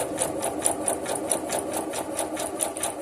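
A domestic sewing machine stitches knit fabric at a moderate, unhurried speed, with a steady, evenly paced mechanical chatter close to the microphone and no talking.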